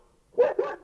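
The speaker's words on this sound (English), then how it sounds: "That's my dog, Lou." A dog indoors gives two quick, loud barks in close succession, near and clear, with near silence before them.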